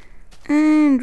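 A single low, drawn-out moo from a cow in the Minecraft video game rings out for about half a second, sliding slightly downward in pitch after a quiet lead-in.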